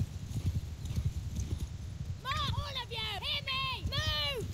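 Cavalry horses in the Mount & Blade 2 video game battle, with steady clip-clop of hooves under repeated loud whinnying and neighing, layered over a constant rumble of battle noise.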